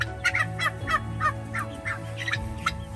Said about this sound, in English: we heard the turkeys starting to do their call